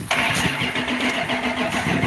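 Small red vehicle's engine cranking and catching, a steady loud mechanical churn lasting about two seconds with no talk.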